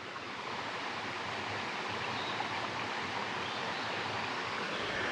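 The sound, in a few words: stream water dropping into a hole, low rumble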